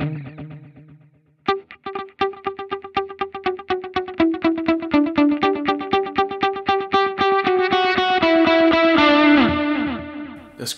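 Electric guitar through a Line 6 Helix set to dotted-eighth delay: a steady run of picked notes, each trailed by repeating echoes that build into a dense, shimmering wash, fairly loud and alone.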